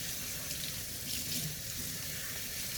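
Kitchen tap running over lettuce being rinsed in a sink: a steady, soft rush of water splashing continuously, with no talk.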